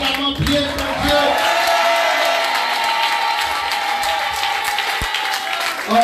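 A church congregation applauds and cheers in a steady, full wash of clapping and shouts, with a voice calling out briefly over it.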